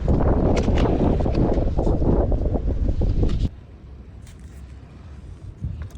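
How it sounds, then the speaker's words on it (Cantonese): Strong, sudden wind buffets the microphone on a fishing outing, a loud continuous roar for about three and a half seconds that then drops to a quieter background with a few faint gusts. "好大風"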